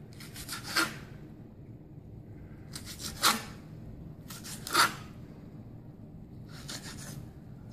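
A knife cuts a homegrown ghost pepper into strips on a board, four separate crisp slicing strokes spaced a second or two apart, close and fairly quiet with no voices.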